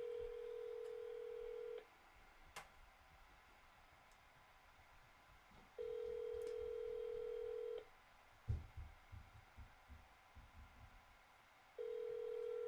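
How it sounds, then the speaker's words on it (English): A phone dials a number: three long steady tones separated by gaps, with a few short beeps and soft clicks and thumps in between, all fairly faint. "So we're going to call that number"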